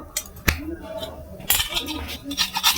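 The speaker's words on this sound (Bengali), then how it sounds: "এই দেখুন আমি একটা চাঁচা মেশিন নিয়েছি মানে ছোলা মেশিন এতেই আমি চেঁচে নেবো" A hand peeler scraping a carrot in a home kitchen for carrot halwa, a series of short scratchy strokes and light metallic clicks, close by, while someone talks.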